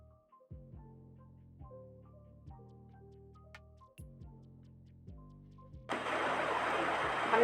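A sewing machine stitches a blouse neckline: a few soft ticking clicks spaced apart, then a close, steady mechanical whir that swells over the last moments, with no talking.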